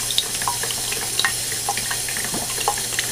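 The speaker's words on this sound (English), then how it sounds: "Water's still running there, there's no problem." Water running steadily from a household tap during a washer replacement, a close, continuous splashing stream with no talking.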